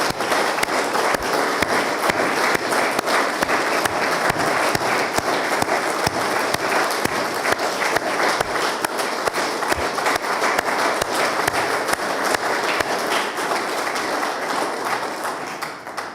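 Sustained applause for a senator during a state Senate session, a loud, even roar of many hands clapping continuously for about sixteen seconds with no break and no speech over it.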